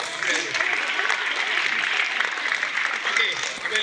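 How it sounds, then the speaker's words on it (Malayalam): Children clapping together at a high school admission festival opening ceremony, a dense, steady wash of applause lasting throughout with a voice faintly present. "കുട്ടികൾ കൈയടിച്ചേ."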